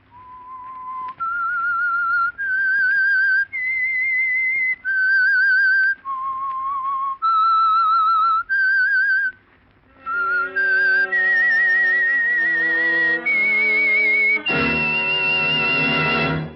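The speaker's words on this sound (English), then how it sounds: "That whistle is your signal for the Signal Oil Program, The Whistler." A clear whistled melody of sustained, stepwise notes plays alone and loud, followed by a brighter, fuller rising phrase, serving as the signal tune of the 1947 Signal Oil radio program The Whistler.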